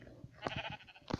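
A few short sheep bleats in a video game, faint and close together, the last ones the loudest.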